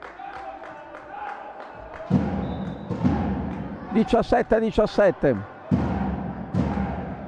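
Home supporters of the Bolzano side in white and red cheer and clap in rhythmic bursts inside the Palagasteiner arena during an Italian Serie A handball match between Bolzano and Sassari, with a commentator talking over the crowd.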